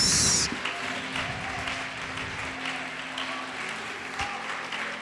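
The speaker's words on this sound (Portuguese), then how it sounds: "Pode aplaudir" Congregation applauding during a church service, a steady spread of clapping from many hands at moderate loudness after a brief bright burst at the start, with a faint low hum underneath.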